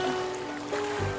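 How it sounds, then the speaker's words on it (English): Giant otters beat the water hard with their powerful tails as a pack moves fast, giving a brief burst of close splashing and sloshing in a short, dense wash of water. "Their powerful tails beat the water,"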